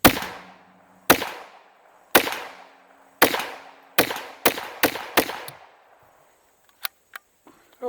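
An H&K PSP 9mm pistol is fired into an oil drum. Six loud, sharp reports ring out about a second apart with echoing decay, followed by faint metallic clicks and handling noises.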